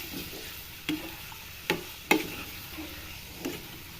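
Garlic powder, salt, chili flakes and black pepper sautéing in a pan for mini pizza topping: a soft, steady sizzle with a few sharp scraping taps of a spoon or spatula against the pan, quiet and close.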